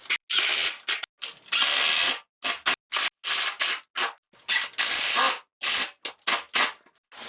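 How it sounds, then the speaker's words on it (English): Screws driven into tile backer board around a bathroom window, a power driver whirring in a long string of short, loud bursts separated by brief pauses, up close with no talk. "So I'm going to put a screw up here now"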